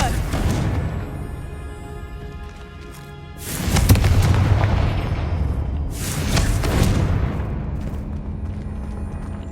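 Two heavy blasting-curse explosions in Hogwarts Legacy, each a sudden loud broadband boom that decays over a couple of seconds, layered over a continuous game ambience.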